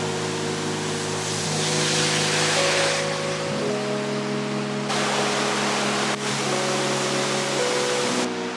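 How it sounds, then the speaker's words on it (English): A waterfall in the Cameron Highlands of Malaysia roars as a steady, loud, broadband rush with no pauses, and a low hum sits beneath it. "The waterfalls are lovely"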